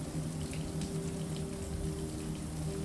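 Rain pelts a houseboat deck and the fabric of outdoor chairs, a steady soft patter of drops with a faint low hum underneath, continuous and without voices.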